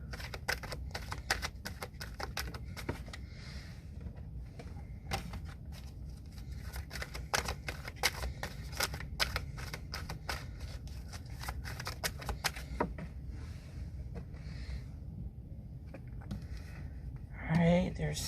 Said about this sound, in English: I'm pulling 3 of these psychic cards.